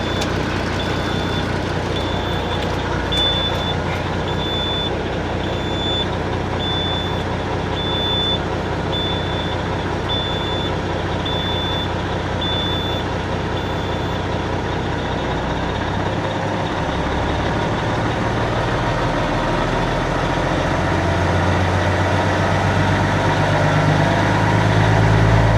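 A semi truck's diesel engine idles with a steady, loud rumble, its revs lifting slightly toward the end as the idle is raised, with no talking.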